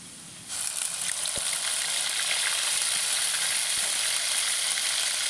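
Onion paste hits hot white oil and bursts into a loud, constant sizzle. A couple of faint utensil taps can be heard against the pan.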